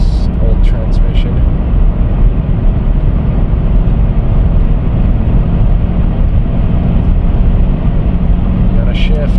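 A car driven on the road with a freshly rebuilt GM 4L60E automatic transmission, a loud steady engine and road rumble as it works up through the gears, with someone talking over it.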